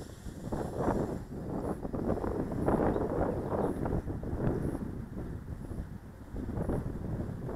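Strong outdoor wind buffets the microphone in gusty, rumbling surges that swell and ease, loud and close throughout with no voices.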